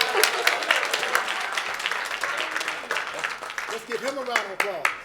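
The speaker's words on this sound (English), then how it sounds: "Let's give him a round of applause" An audience claps at a swearing-in ceremony for an oath of office. The applause is moderately loud and fairly dense, with individual claps standing out and a voice talking over it near the end.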